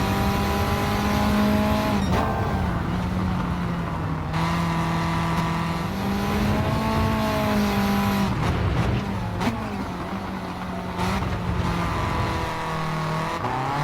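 A race car in Gran Turismo, driven on the Nürburgring, screams through a lap with a loud, continuous engine whine rising and falling through upshifts and downshifts, with brief tire squeal at corners.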